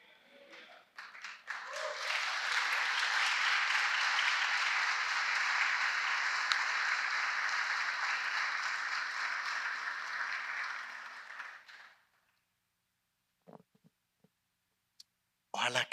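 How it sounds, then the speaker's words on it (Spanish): A church congregation breaks into sustained applause, dense clapping that builds quickly, holds steady, then cuts off, followed by near silence and a few brief sounds. "Ojalá que sea más que un aplauso"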